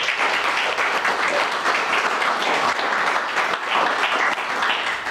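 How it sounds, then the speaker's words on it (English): Sustained audience applause at a community gathering, a dense, steady wash of many hands clapping at full loudness for about five seconds with no break. "I'm going to ask for a round of applause again for"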